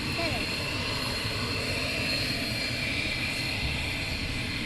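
Military jet aircraft taxi at RAF Lakenheath during a morning launch, a continuous loud engine roar and whine that holds steady throughout, heard from a distance outdoors.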